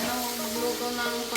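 Tomatoes fry in a pan with a steady broadband sizzle for a short stretch, plus light stirring and a brief clatter near the end, no one speaking.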